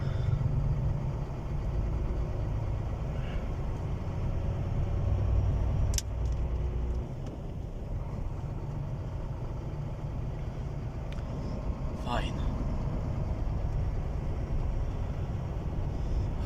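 A car with a newly replaced clutch disc drives along with a steady low engine rumble and road noise, a slight drop around the middle and a couple of brief rattles or clicks, with no voices.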